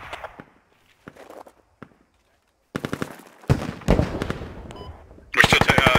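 Gunfire in the tactical shooter Squad: scattered single shots at first, then after a short lull come dense close bursts of automatic fire and heavy rattling volleys, with some voice chatter mixed in.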